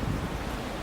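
Strong wind blows outside a doorway, a broad steady rushing roar with low buffeting that fills the whole brief moment.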